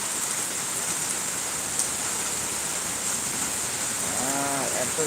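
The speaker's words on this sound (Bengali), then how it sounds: "বৃষ্টি হচ্ছে" Heavy rain falls in a continuous broad hiss that holds steady and fairly loud throughout, with a brief tonal sound near the end.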